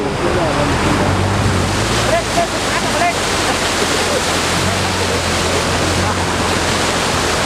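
Fast, turbulent water rushing in a strong current, a loud continuous roar with wind buffeting the microphone throughout.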